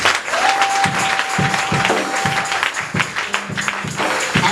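A church congregation claps loudly and continuously during worship. A sustained tone runs through the first half beneath the dense applause.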